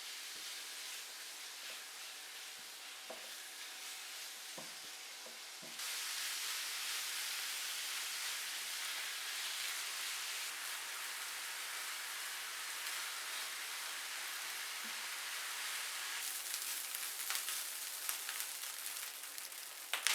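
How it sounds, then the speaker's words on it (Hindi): Beef mince frying in two to three spoons of oil, a steady close sizzle and hiss that rises and thickens partway through and carries on unbroken, with no talking. "सिर्फ कीमे को 2 से 3 चम्मच ऑयल में हम अच्छी तरह से भून लेंगे।"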